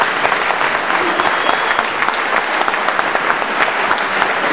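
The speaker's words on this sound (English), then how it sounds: "Give them a hand" A crowd at a benefit concert applauds steadily and loudly for a band, dense clapping filling the whole stretch without a break.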